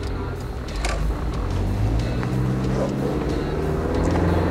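A diesel engine in a Land Cruiser 70 Series Prado grumbles steadily from inside the cabin, a low, rough, continuous rumble heard under a voice.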